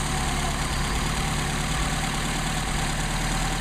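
A car engine fitted with Solex carburetors idles steadily and loudly up close, a continuous low rumble with no voices.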